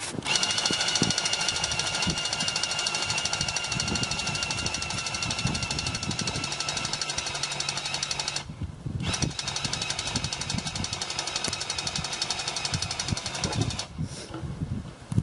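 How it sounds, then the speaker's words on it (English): A loud, continuous power drill grinds and rattles for a long stretch while raising a camper roof, with a brief dip midway before it resumes at full strength. "I need to reverse the drill in the other direction"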